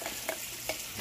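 Soursop chicken being stirred in a pot: a thick, close sizzle runs throughout, with two distinct scraping strokes of a spoon against the pot at an even pace.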